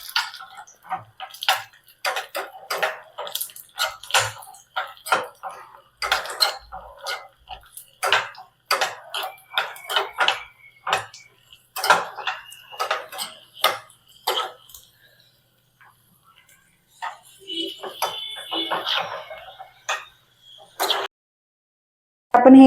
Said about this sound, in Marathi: तर हे ड्रायफ्रुट्स आपण यामध्ये घालून घेऊया आणि व्यवस्थित भाजून घेऊया.